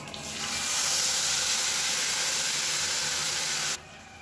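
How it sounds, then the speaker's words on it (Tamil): Loud, steady sizzling of coriander paste hitting hot oil, a broad hissing crackle that holds evenly for several seconds before cutting off abruptly. "இப்போ நம்ம அரைச்சு வச்சிருக்க இந்த கொத்தமல்லி பேஸ்ட் சேர்த்துக்கலாம்."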